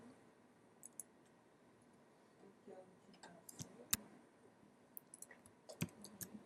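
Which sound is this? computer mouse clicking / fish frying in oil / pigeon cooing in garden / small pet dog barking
computer mouse clicking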